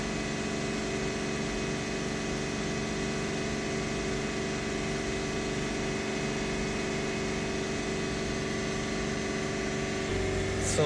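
A Vauxhall Combo van with a persistent DPF fault idles with a steady, even engine drone and a constant mechanical hum. It holds unchanged for the whole stretch, with a slight shift at the very end.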